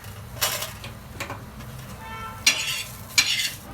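Onion roasting in a pan while being stirred, a soft continuous sizzle under repeated scraping strokes from a utensil, with two sharper metallic scrapes near the end, close and moderately loud, no talking.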